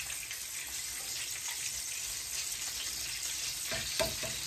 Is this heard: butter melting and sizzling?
yes